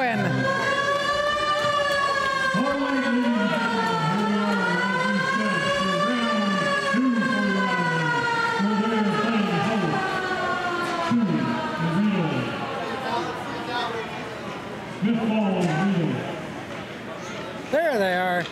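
A wailing arena siren rises and falls repeatedly over music and crowd noise as a junior hockey team prepares to take the ice for game one, with an announcer talking throughout.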